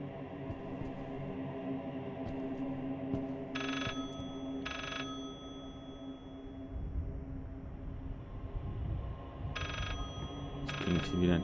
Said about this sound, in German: Es klingt hier wieder ein Telefon